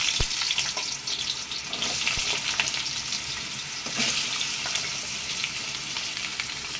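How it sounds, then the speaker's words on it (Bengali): Cut potatoes fry in hot mustard oil in a wok, giving a steady loud sizzle with occasional sharp pops and stirring scrapes. "এবার আলু যেগুলো কেটে রেখেছিলাম সেই আলুগুলোকে এবার ভেজে নেব"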